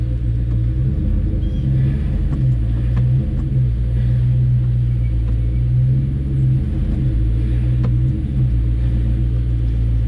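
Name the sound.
lowered car engine driving up race ramps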